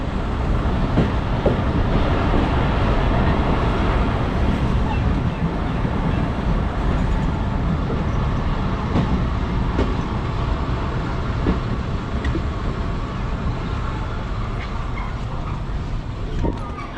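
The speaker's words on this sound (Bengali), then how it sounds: "আমাদের ট্রেন এই মুহূর্তে প্রবেশ করছে চব্বিশ নগর রেল স্টেশনে" A local intercity train pulling into Chabbish Nagar railway station on the Rajshahi to Chapainawabganj line, heard from onboard: continuous loud rumble with rhythmic clickety-clack of wheels over rail joints, steady throughout.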